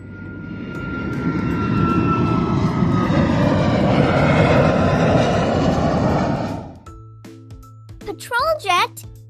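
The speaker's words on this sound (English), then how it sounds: "Passenger plane." A passenger plane roars loudly and steadily overhead for several seconds, then cuts off abruptly, followed by a few bright chime-like tones.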